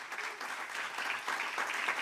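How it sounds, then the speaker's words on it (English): An audience at a diaspora panel discussion claps steadily for about two seconds, a soft, even patter heard from some distance with no voices over it. "our program director, Florence Tatu, Amimu, let's give her a big round of applause"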